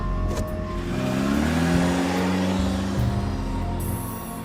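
A car pulls away and accelerates hard, its engine rising in pitch as it speeds off, loud and close with no voices.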